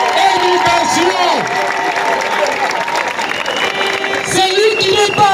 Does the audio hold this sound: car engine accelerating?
no